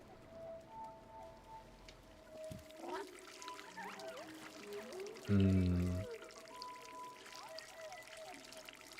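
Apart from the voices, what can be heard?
water pouring sounds in a video game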